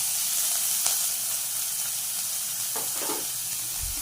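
Carrot, onion and green chilli sautéing in hot coconut oil in a pan, a steady close sizzle and hiss with a few soft stirring scrapes, no voices.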